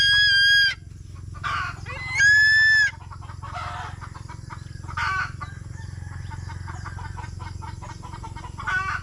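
Farmyard chickens clucking and calling, with two loud high squawking bursts over a steady low rumble and softer clucks scattered through the rest, no voices.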